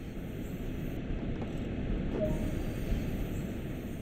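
A DB BR 143 electric locomotive runs in the Train Sim World game, giving a steady low rumble of rolling wheels and motor hum with a faint brief squeal, no voices present.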